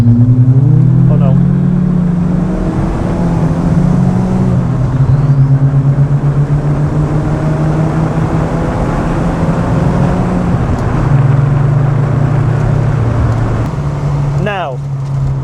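A Peugeot 205 GTI hot hatch engine drones and climbs in pitch as it accelerates, loud and close throughout, with a voice speaking over it.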